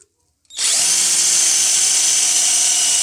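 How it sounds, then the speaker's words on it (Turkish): A JCB Pro Plus cordless impact drill whirs into steady, loud operation after a brief silence, holding a constant high-pitched motor whine to the end while drilling poorly. "Delme performansı çok kötü."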